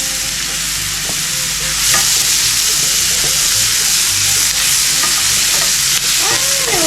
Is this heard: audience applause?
no